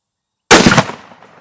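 A 6.5 Creedmoor rifle fires a Hornady 130 grain CX bullet into ballistic gel, a single loud, sharp report after silence, trailing off into a short decaying echo.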